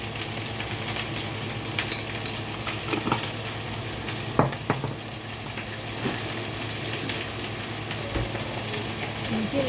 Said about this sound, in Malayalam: ഉപ്പിൽ ഇട്ട് കൊടുക്കാൻ പെട്ടെന്ന് വഴണ്ടി കിട്ടും.